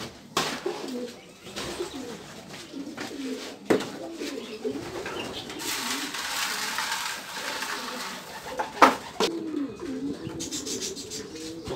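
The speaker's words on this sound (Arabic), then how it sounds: "جوج حمامات دازو دابا" Racing pigeons cooing close by on a loft as birds arrive home, soft repeated throaty coos with brief rustles and knocks, faint voices in the background.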